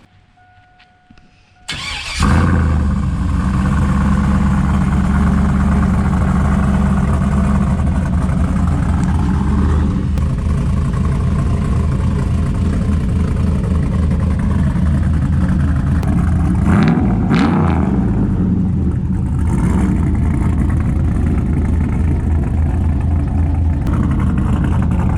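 A car with a newly fitted aftermarket exhaust cranks to life, then settles into a loud, steady close-up idle with a deep rumble, broken by a couple of brief revs around the middle.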